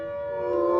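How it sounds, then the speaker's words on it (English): A steady tonal air raid siren used as an alarm at an animal park wails, holding a pitch and slowly swelling louder over a brief moment. "When the siren sounds, sometimes the wolves start howling."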